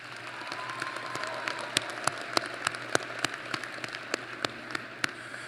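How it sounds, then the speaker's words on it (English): A crowd applauds steadily at a university commencement ceremony, a dense patter of many hands with sharper individual claps standing out throughout. "give yourselves a big round of applause"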